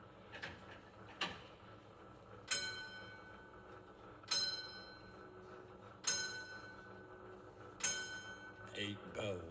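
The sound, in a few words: mechanical clock bell striking eight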